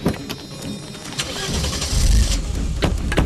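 Car engine cranking and catching in a film scene, rising into a loud rumbling idle after a short stretch of clatter and background noise.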